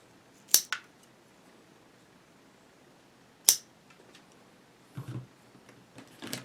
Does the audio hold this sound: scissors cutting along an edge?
yes